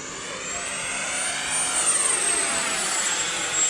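An FMS Rafale 80mm electric ducted fan RC jet flies past, a loud, smooth high-pitched whine and rushing roar that swells and shifts in pitch as it passes close overhead, with no talking.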